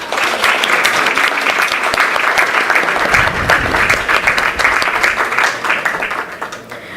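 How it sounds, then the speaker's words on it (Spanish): An audience applauds at a round-table panel on educational technology in the Dominican Republic, full steady clapping lasting several seconds before tapering off toward the end. "Vamos a darle un aplauso."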